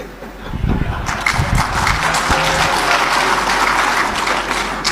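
A crowd applauds steadily throughout, a dense even wash of clapping with some low thumps early on and no voices.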